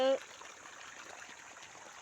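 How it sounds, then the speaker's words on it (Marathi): Steady, soft rush of irrigation water flowing continuously into a wheat field, with a brief voice at the very start. "असं पाणी द्यायला चालू आहे"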